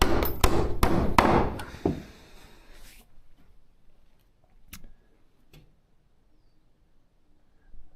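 Hammer striking nails into wood on a farm, a quick run of loud sharp blows followed by a pause and a couple of faint isolated taps.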